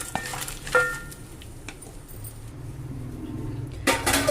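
Green chillies fry in a pan for tamarind rice, with a soft sizzle under clinks and scrapes of a utensil stirring against the pan, and a louder clatter near the end.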